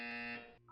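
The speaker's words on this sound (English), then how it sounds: "When you hear the buzzer, look down at the floor." A Portal 2 test-chamber buzzer sounds once, a short steady electronic tone that holds briefly and then cuts off, heard alone and fairly quiet.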